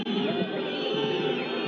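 Football stadium crowd at a CAF Champions League match between Al Hilal and TP Mazembe, a dense sustained roar of voices reacting after a player is brought down, loud and continuous throughout.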